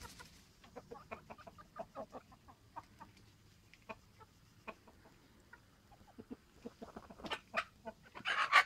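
Chickens and a rooster cluck and squawk near a farmyard while drinking whey, with scattered close calls building into a louder flurry of agitated squawking at the end.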